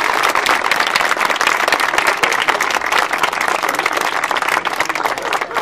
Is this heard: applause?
yes